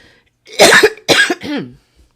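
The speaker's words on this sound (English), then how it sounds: "If somebody has a cure for this consistent cough" Three harsh coughs from a persistent cough in quick succession, close and loud, with a short pause after the first pair and silence around them.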